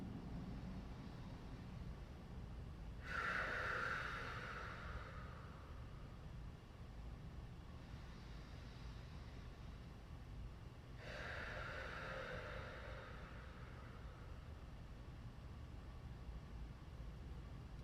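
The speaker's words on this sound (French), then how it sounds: "Par la bouche, expire." Two slow, soft exhalations through the mouth during yoga breathing, each a gentle airy whoosh lasting a second or two, spaced several seconds apart against quiet room hiss.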